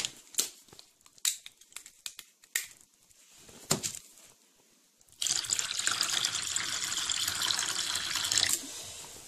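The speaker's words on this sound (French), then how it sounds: "Tac, on rajoute de l'eau." Water pours from a bottle into a plaster mix, a steady loud splashing gush that starts partway through after several short crinkling and tapping handling noises.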